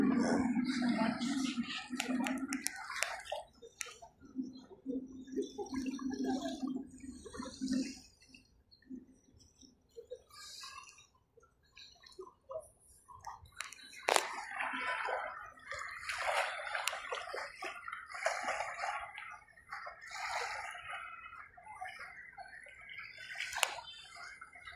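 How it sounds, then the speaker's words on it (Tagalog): Water washes and sloshes, with a rolling surge of waves breaking on a dolomite sand beach, fading and swelling again, close by and moderately loud. "hampas ng alon sa buhangin"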